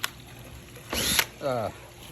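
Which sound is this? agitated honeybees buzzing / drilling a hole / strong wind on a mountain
drilling a hole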